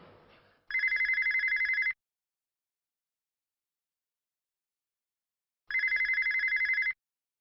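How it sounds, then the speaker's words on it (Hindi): A telephone rings in two loud bursts of trilling bell tone, each a little over a second long, separated by about four seconds of silence, with no talk over it. "किसका फोन है बेटा?"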